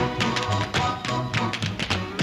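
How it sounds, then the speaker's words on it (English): Knocks credited to spirits in a reputedly haunted house: a series of sharp taps scattered irregularly across a couple of seconds over a busy musical or noisy background. "Their little spirits knock once for yes, two for no"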